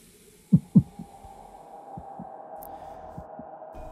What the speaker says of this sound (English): Ooh, it's a heartbeat.